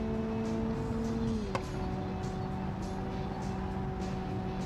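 A modded road car engine in a racing video game hums at a loud, steady pitch, with one brief shift in tone partway through and then a lower, even drone.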